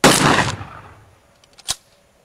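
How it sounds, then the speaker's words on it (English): One loud, close shotgun blast firing number 4 buckshot at a test target, decaying over about half a second, followed by faint clicks and a short sharp knock. "now let's try number 4 buckshot"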